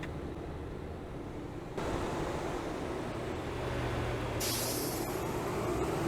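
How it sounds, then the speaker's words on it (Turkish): Steady low rumble of a Mercedes-Benz Tourismo bus engine in Euro Truck Simulator 2, with broadband hiss, a sudden step up in noise partway through, and a sharp air-brake hiss later on. "Otobüsün sesini biraz duymuş oluruz."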